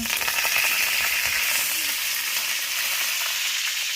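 Cumin, mustard seeds and curry leaves sizzle steadily in hot oil, a dense, continuous frying hiss that stays loud and even throughout with no voices.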